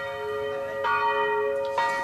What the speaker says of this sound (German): damit das Geläut rechtzeitig vom Kirchenturm ertönt